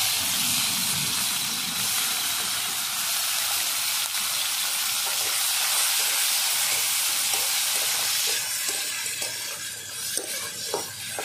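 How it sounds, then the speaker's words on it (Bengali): Small crabs rubbed with salt and turmeric fry in mustard oil in a wok, giving a steady, loud sizzle and hiss with occasional stirring scrapes throughout, no voices. "কাঁকড়াটা প্রথমে আমি ভেজে নিচ্ছি।"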